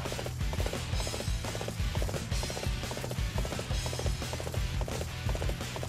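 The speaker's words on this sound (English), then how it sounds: "Running them over with your horse is generally fatal enough." A horse gallops in the video game Dynasty Warriors 8 Empires, its hooves clopping in a steady, fast rhythm that stays loud and close over a busy battle backdrop.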